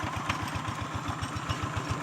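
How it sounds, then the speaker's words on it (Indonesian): Tractor engine running in a rice paddy, a steady rapid chugging putter close by and loud, with no talking. "Ini sudah mulai dia, traktornya sudah mulai berjalan."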